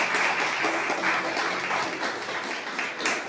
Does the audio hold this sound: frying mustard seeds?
no